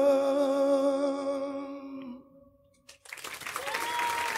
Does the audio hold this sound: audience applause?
yes